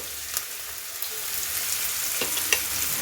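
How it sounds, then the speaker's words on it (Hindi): Finely chopped onions frying in hot oil, a steady close sizzle and crackle that runs without pause, with a few soft clicks as the pan is stirred. "इसे अब हम तेल में डाल देंगे और इसे गोल्डन ब्राउन होने तक हम इसे भून लेंगे।"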